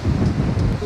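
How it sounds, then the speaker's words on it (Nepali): Strong gusty wind buffets a handheld microphone outdoors on a day in Barcelona, a loud, low rumbling roar that rises and dips without a break, with no voices. "मान्छे उडाउने यस्तो हावा पो चलेछ त आज त"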